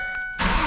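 A Ford Ranger 3.0 with its muffler removed for a straight pipe fires up in a closed garage: a short starter whir, then the engine catches into a sudden loud, raw roar.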